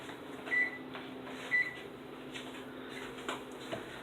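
Kitchen oven being set to preheat to 350 degrees, two short clear beeps about a second apart from the control panel over a low steady hum, close by with no talking.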